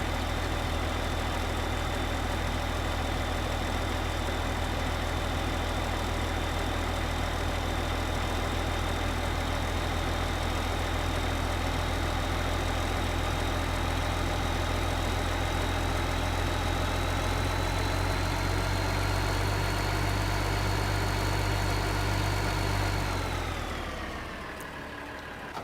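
A tractor engine in Farming Simulator 2015 drones steadily under heavy load while pulling logging equipment, a loud constant hum that runs unbroken for over twenty seconds before dropping away abruptly at the end.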